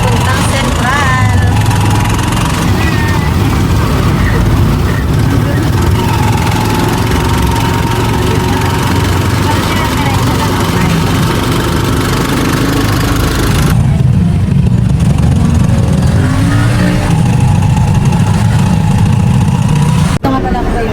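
A tricycle's small engine runs steadily throughout a ride to Central, a rough mid-pitched drone with rattling vibration, close and loud, with the tone shifting as it changes speed.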